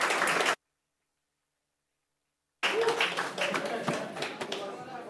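Scattered clapping and applause from a room of bidders after a property sells at a live auction, following a brief silence and mixed with the auctioneer talking.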